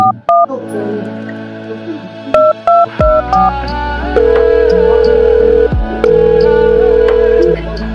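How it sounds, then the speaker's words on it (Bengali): A phone number dialed on a telephone keypad: a quick series of loud, clear DTMF key tones, some in rapid pairs, followed by long steady dial tones, with no one speaking. "ফোনটা কর আচ্ছা ঠিক আছে ফোনটা করি"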